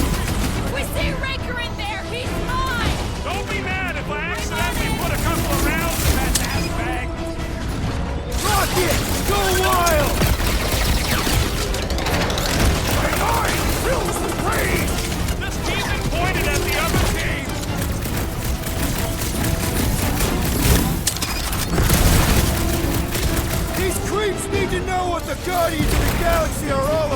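Video game gunfire, with dense bursts of rapid shots and booms running continuously under mechanical clatter and voices talking over the action throughout.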